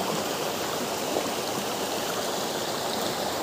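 Water rushes steadily through a stone canal passage, a dense, continuous broadband flow with no breaks, loud and close, with no voices.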